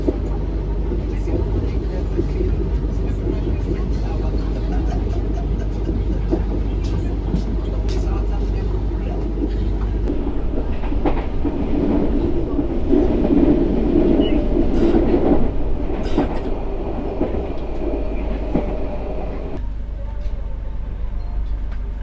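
Steady rumble and rail clatter from inside the Madiun Jaya executive passenger train travelling from Jakarta, a continuous loud low drone lasting over twenty seconds, with faint voices beneath it.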